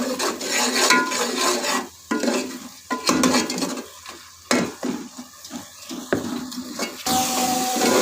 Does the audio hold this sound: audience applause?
no